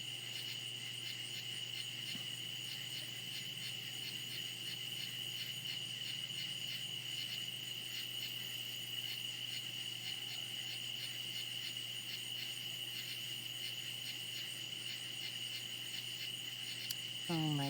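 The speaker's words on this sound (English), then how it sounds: "I wish there was a way for me to get rid of some of the cricket noises." Crickets chirp outside at night in a dense, continuous, steady pulsing trill that persists unchanged for the full stretch, with no voices.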